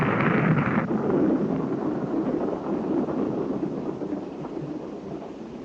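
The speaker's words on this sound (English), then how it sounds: "the missile had just lifted from the pad when the lock start tank ruptured" Thor missile blowing apart just after lifting off the pad when its lox start tank ruptures: a heavy, sustained roaring rumble with a louder burst at the start, fading gradually as the low thunderous noise continues without voices.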